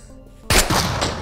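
A single loud gunshot in the video game SCUM bursts out after a quiet lead-in, with a ringing tail and a fainter follow-up crack.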